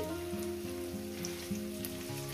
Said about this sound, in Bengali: দিয়ে পেঁয়াজটাকে মিনিমাম আমি 2 মিনিট ধরে ভেজে নেব